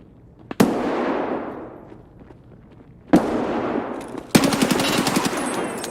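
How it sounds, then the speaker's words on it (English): Gunfire in the shooter game Escape from Tarkov: a sharp shot with a long ringing tail, a second loud shot a few seconds later, then a rapid automatic burst, all loud and close with no talking. "He heard the shots."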